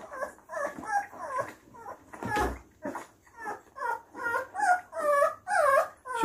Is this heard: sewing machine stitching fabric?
no